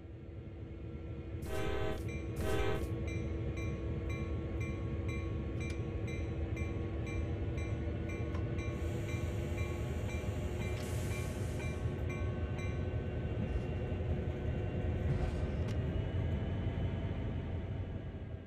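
Slow locomotive rolling onto a turntable in the train game CSX Heavy Haul, a steady low engine rumble and rail hum throughout with brief hissing bursts and high beeping tones, no talk.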